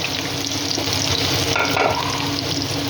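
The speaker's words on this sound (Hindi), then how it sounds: "प्याज को इसमें डाल देना है, लाइटली ब्राउन करना है।" Onions and green chilies fry in hot ghee with a steady, loud sizzle, stirred now and then, continuous and close throughout with no talking.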